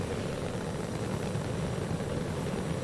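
An airplane engine in the video game Stormworks drones steadily, a continuous low rumbling hum of moderate loudness with no talk over it.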